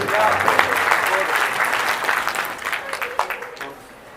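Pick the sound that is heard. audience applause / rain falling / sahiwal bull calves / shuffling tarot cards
audience applause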